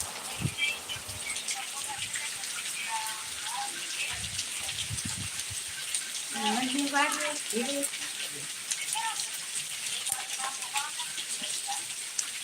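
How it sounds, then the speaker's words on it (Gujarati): Heavy rain pours steadily over a village, a dense even hiss of falling water with occasional bird calls and people talking briefly partway through. "સારો વરસાદ છે"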